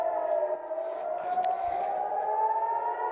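A civil defense siren wails in Tel Aviv as a rocket warning, a steady rising tone heard from a distance over quiet streets, with a brief faint knock partway through.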